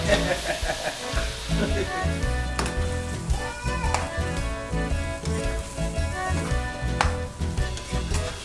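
Ground beef browns in a frying pan for lasagna, giving a loud, continuous close sizzle with occasional clinks and stirring scrapes and a faint voice in the background.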